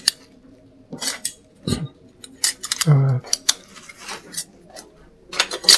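Metal canning jar lids clink and rattle in a kitchen as they are handled and wiped, with a series of sharp, close taps and scrapes spread unevenly throughout.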